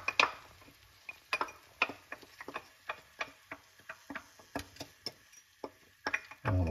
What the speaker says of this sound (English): Stir this all in so it's incorporated nicely throughout the eggs.